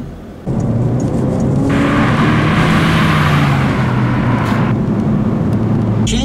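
A Citroen DS3 Racing with a 1.6-litre, 202-horsepower engine revs while driving, the loud engine note climbing and falling through gears from inside the car, continuous and close with a brief quieter start.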